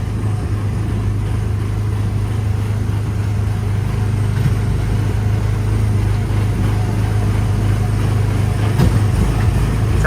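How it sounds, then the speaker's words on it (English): A Disneyland ride vehicle running alongside the monorail at night, its motor humming low and steady while the car rattles and clatters continuously close by, a loud sustained drone without speech. "Sounds like our car's about to fall apart."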